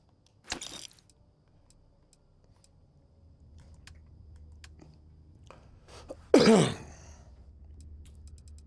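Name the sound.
coughing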